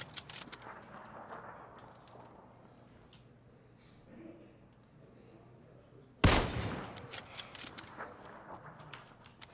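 Video game gunfire: a sudden loud burst of shots cracks out after a quieter stretch of faint clicks and rattles, followed by scattered sharper reports.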